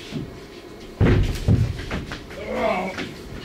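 A door slams shut at a train station, with a loud thump followed by a second bang, and people talking nearby before and after.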